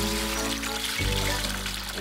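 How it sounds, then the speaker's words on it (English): Water pours into a clear plastic bowl in a continuous close stream, its tone shifting as the level rises, with no talk over it. "Next, you add 3 inches of water."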